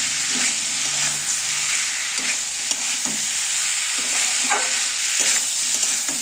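Eggplant, potato and tomato curry sizzles and fries steadily in a pan, with spice water added, broken by soft, repeated scrapes of stirring throughout.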